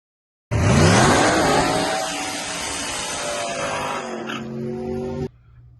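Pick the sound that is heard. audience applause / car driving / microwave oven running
car driving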